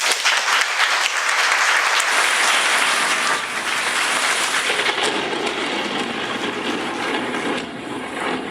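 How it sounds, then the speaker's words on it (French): Comedy club audience applauding, loud dense clapping that gradually thins out over several seconds. "je demande un tonnerre d'applaudissements pour Yves et Farah"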